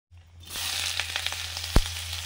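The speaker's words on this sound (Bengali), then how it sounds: "এবার ঘুগনিতে মশলা দিয়ে ফোড়ন দেব, সর্ষের তেল" Whole spices crackle and sizzle as they hit hot mustard oil for ghugni, a steady close frying hiss with scattered pops and one sharp louder crackle near the end.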